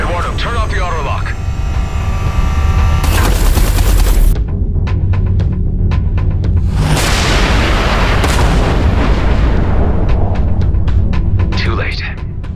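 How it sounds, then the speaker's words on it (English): Artillery fire in the space combat game Everspace 2: heavy booms and rapid bursts of blasts over a constant loud engine roar, dense and close throughout. "Watch out, the artillery."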